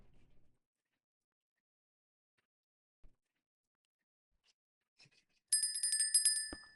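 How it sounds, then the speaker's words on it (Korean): A TradingView alert pop-up on a computer sounds a bright bell-like notification chime, ringing clearly and repeatedly for about a second after a quiet stretch with a few faint clicks. "토스트 팝업이 되면서 아까 설정했던 손종 소리가 나게 되죠"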